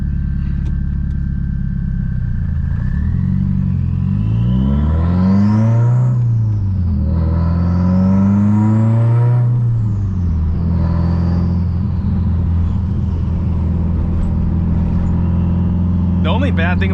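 A Subaru with its exhaust dump open pulls hard, loud and close, revving up and down through several rising and falling sweeps before settling into a steady droning cruise.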